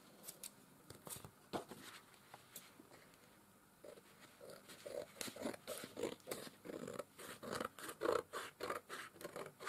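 Scissors snip through paper during a crafting session: faint, close cuts that start sparse and then settle into a steady run of rhythmic snips with soft paper rustle between them.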